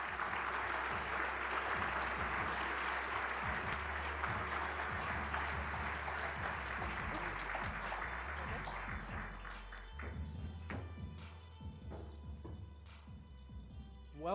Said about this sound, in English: welcome Patti and Jim to the podium with their applause